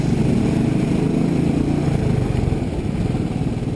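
A 2019 Royal Enfield Classic 500 single-cylinder motorcycle engine revs slowly and steadily, a loud, close, low chugging thump that holds for the whole stretch with no talk.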